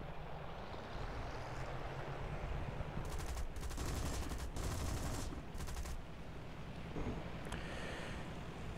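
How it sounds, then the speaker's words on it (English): Several bursts of machine-gun fire from four French wing guns on a D.520 fighter in War Thunder, loud over a constant engine drone, with a short pause partway and a final brief burst. "You notice I am using a lot of machine guns here."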